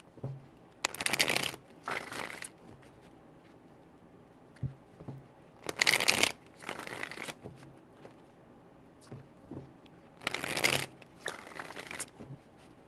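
Tarot cards riffle-shuffled in quick bursts of about a second each, close and crisp, with quiet pauses and small handling taps between them and no talking.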